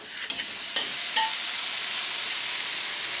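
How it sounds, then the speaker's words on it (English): Tomatoes tipped into a hot pan for a prawn and spinach curry, giving a steady broad sizzle with a few soft clatters early on, close and loud with no talking. "Now I'm going to put my tomatoes in."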